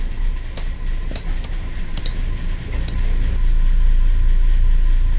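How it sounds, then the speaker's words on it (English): Two Perkins diesel engines on a boat start up and settle into a low, rumbling idle, the deep throb swelling louder and steadier after a few seconds with some clanking above it. "That is the sound of two Perkins engines starting up and getting ready for today."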